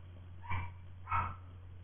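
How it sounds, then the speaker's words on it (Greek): A pet dog barks twice indoors at night, two short, fairly faint barks about half a second apart over a steady low hum. "Άμα ακούγεται το σκυλί μου"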